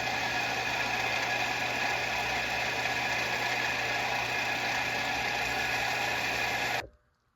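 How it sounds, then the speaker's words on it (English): A belt sander grinds a small wooden crankbait lure, giving a continuous loud, even hiss and whir with a faint hum underneath. It holds steady for about seven seconds, then cuts off abruptly. "I could just do it all on the belt sander."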